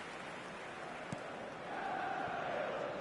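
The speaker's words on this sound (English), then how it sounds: "Certainly gave this crowd something to really cheer about." Stadium crowd in an eFootball football match, a steady broad roar that swells louder in the second half, heard on its own without commentary over it.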